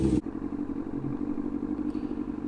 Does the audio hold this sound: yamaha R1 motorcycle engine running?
yes